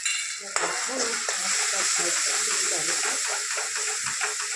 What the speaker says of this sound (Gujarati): બેસન આ રીતે શેકવાનું છે.